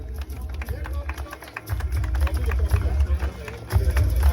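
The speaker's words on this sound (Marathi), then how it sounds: "जोरदार टाळ्या झाल्या पाहिजेत." Loud, dense applause from a crowd at a fishing competition prize ceremony, steady clapping with a few surges and a low rumble of crowd noise underneath.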